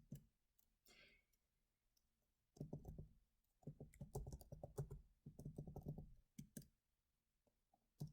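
Computer keyboard typing in bursts of quick close clicks, separated by pauses, fairly faint.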